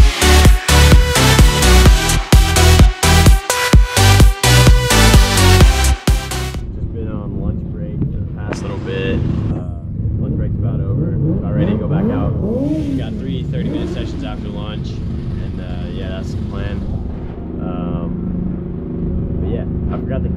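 A KTM Moto3 race motorcycle at Silverstone starts with loud, steady engine roar broken by sharp gear-shift dips, then fades to a quieter, wavering engine drone with rising and falling pitch as it moves around the track.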